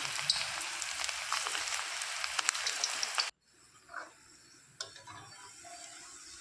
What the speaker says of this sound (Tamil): சூடான எண்ணெயில் போட்டு பக்கோடா போட வேண்டியதுதான்